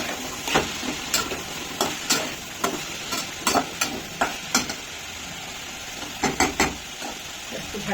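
Cumin seeds fry in a pan with a steady low sizzle, broken by repeated sharp clinks and scrapes of a utensil stirring against the metal at an uneven rhythm, close by and moderately loud.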